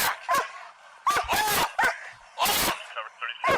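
A police K9 dog barks and yelps excitedly in several loud, close bursts with gaps between them, while voices are also heard.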